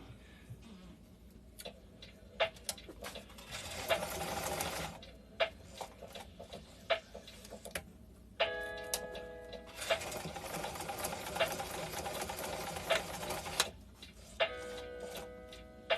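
A sewing machine stitching fabric for a pocket, running in several bursts of fast mechanical whirring and clatter, with pauses filled by ticking clicks, close and moderately loud.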